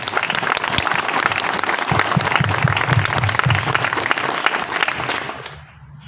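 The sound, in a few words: audience clapping for uplines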